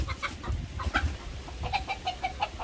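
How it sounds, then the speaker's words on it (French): Two roosters fight nearby, giving a run of sharp, agitated clucks and squawks over a scuffling, noisy background. "Il y a deux coqs qui se battent."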